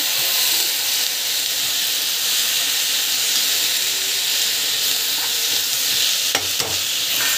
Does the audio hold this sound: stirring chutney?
yes